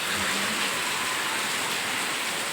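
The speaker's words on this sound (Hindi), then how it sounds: "हर जगह ये रिमझिम सी बारिश हो रही है" Steady light drizzle falling everywhere onto already wet ground, a soft even hiss of rain that holds constant throughout with no voices.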